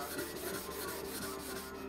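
A worn 600 stone or 1200 diamond plate rubs over an Awasedo natural sharpening stone to raise a slurry, giving close, rhythmic gritty scrubbing strokes, about eight in quick succession, with no talking.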